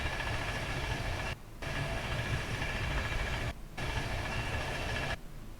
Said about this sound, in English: The alt one has sort of like a wheel flat noise to it.